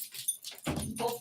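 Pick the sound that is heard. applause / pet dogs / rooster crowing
pet dogs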